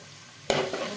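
Prawns dropped into a hot pan with masala and coriander powder burst into a sudden loud sizzle that settles into a steady crackling fry.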